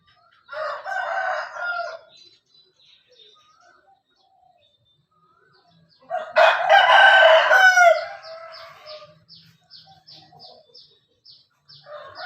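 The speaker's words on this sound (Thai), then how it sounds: "นี่เป็นไก่นมนะครับ" Burmese fighting roosters crow in two long, loud bursts separated by quiet, followed by softer clucks and short calls nearby.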